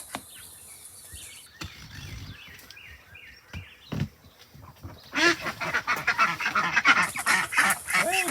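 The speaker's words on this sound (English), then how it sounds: "let's release the ducks, see how they like their new" Ducks quacking loudly and repeatedly nearby, a busy cluster of calls after a quieter stretch with scattered bird sounds and soft rustling.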